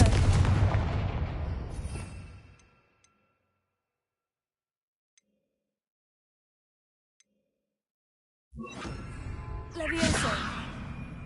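Confringo fire blast spell cast in Hogwarts Legacy, heard as two loud bursts: one booming blast fading over about three seconds, then near silence, then a second eruption with a sharp crackling whoosh.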